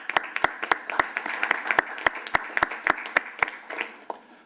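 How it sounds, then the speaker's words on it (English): An audience at an authority board meeting applauds, a sparse round of distinct individual claps at moderate distance, steady for several seconds before thinning out. "So big round of applause for them as well."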